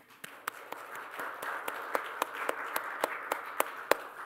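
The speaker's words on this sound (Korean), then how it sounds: "영광의 박수를 한번 보내겠습니다" Sparse, hollow applause from a church congregation at a year-end thanksgiving service, with a few distinct claps ringing out over a soft roomy wash of murmuring, fairly distant and modest in volume.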